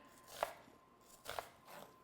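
A knife thinly slicing an onion for a turkey dish, producing three distinct crisp cuts on a board spread across about two seconds, close and fairly quiet with no talking.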